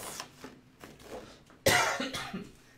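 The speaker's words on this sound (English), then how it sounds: "I've got like this crazy lingering cough that makes me crazy" A woman coughs repeatedly from a lingering cough: a few small throat sounds and then a sudden loud, harsh burst followed by rougher trailing coughs, close and without speech.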